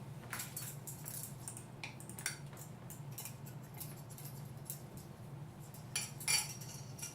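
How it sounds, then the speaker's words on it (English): Small metal measuring spoons clink and jingle against each other in a kitchen while being pulled apart, a run of light, scattered chinks over a low steady hum, with a brighter cluster near the end. "If I can get my spoons untangled"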